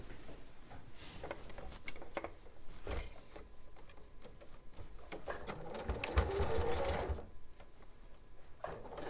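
Quiet rapid stitching of a sewing machine sewing fabric for a Christmas stocking head, running in short bursts with pauses and faint mechanical ticks, with no talking.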